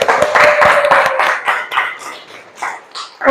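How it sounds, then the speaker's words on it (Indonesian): Brief, loud hand-clapping from schoolchildren in an Indonesian primary classroom, praising a pupil after a maths answer; a ragged burst of claps with a few voices mixed in. "tepuk tangan untuk Asti"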